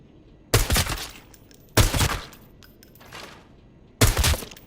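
A gun fires in short controlled bursts in a tactical shooter game, Arena Breakout: Infinite, with four loud separate volleys of rapid shots spaced about a second apart, each ending in a brief ringing tail.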